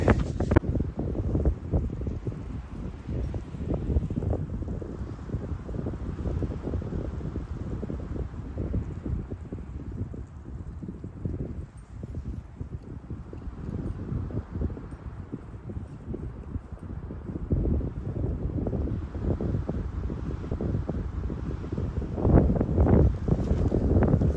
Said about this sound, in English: They all of a sudden decided to get even windier.